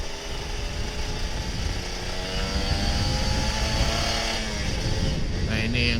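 A Kawasaki Ninja RR 150 motorcycle engine idles and revs lightly in short, gentle blips, steady and fairly close, with a rough mechanical drone throughout.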